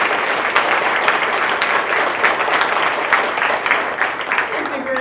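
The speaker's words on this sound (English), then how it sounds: "let's give a round of applause for the candidates" Sustained audience applause for the candidates at a young professionals' mayoral town hall in Manchester, dense clapping from a crowd continuing at full strength throughout.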